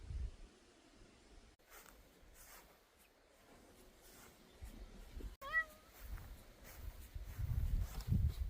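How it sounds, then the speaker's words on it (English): Cats playing outdoors in a garden, with faint rustling and scuffling, then a clear rising meow about midway, followed by closer scratching and shuffling movement near the end. "let's leave the cats have their little play"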